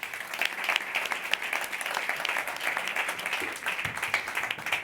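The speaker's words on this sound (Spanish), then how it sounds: "Fuerte aplauso para ella, por favor." Steady applause from an audience at an education talk and dialogue session, a dense, continuous wash of many hands clapping at moderate distance for several seconds with no speech over it.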